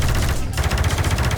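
Gunfire in Half-Life 2 VR as the player shoots at their own deployed shield: a steady, loud run of rapid repeated shots across the whole moment, dense and continuous with a brief dip partway through.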